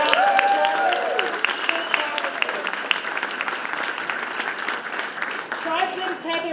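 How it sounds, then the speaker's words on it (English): An audience at a street-naming ceremony breaks into a round of steady applause, fairly loud and continuous, with a few voices calling out over the clapping. "Can we have another round of applause?"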